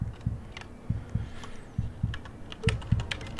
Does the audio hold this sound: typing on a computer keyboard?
yes